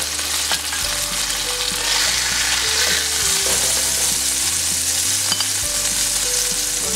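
Pork chops fry in a pan with a loud, even sizzle, steady and close, over a low background hum, with occasional faint clicks.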